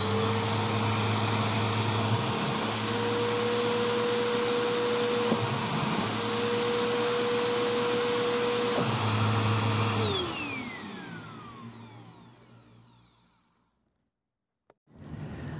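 A Bissell Powerforce 1739 bagged vacuum cleaner runs loud and steady with a constant motor whine, then winds down and falls silent near the end before a brief clunk and renewed noise.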